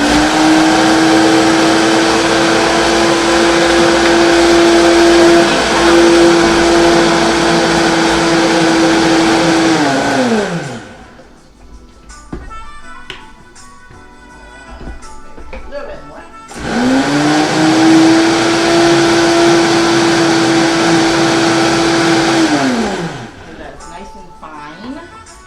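Loud, steady blender whine grinding a cup and a half of sweet potato into flour, running for about ten seconds, pausing with background noise, then running again for a similar stretch.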